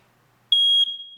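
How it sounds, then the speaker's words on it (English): A smoke detector's test button sets off a single loud, piercing electronic alarm tone that starts abruptly after brief silence, holds steady for under a second, then drops to a fading ring. "check the battery on the smoke detector in the house or the apartment once a month. Okay, so you push the button"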